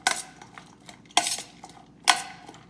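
A spoon scraping and clinking against a bowl while lentil and quinoa salad with seasoning is stirred, three distinct bursts of utensil-on-dish clatter at a steady pace, close and fairly quiet.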